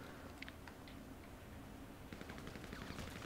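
Gunfire from a firefight in GTA V Online, a burst of quick shots near the start and a denser stretch of rapid shots in the second half, all fairly quiet and low in the mix.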